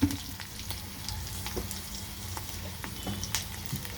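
Ginger frying in a little oil for a curd rice tempering, a soft continuous sizzle with scattered small pops and crackles, close and fairly quiet, with no talking.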